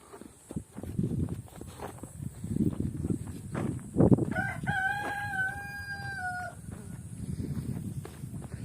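A rooster crows once, a long drawn-out call standing clear of background shuffling and low rustling noise.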